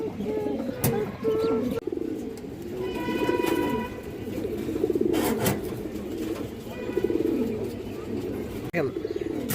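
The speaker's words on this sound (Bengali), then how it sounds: "বিগ সাইজের একটা কবুতর এই যে দেখেন দর্শক" A big-sized pigeon of an old local breed coos over and over in a loud, close, throaty rhythm through the whole stretch. Occasional sharp knocks cut in, and brief higher tones drift in the background.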